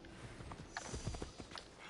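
A horse clip-clops along at a steady walk in the video game Assassin's Creed Odyssey, the hoofbeats faint and muffled over background ambience.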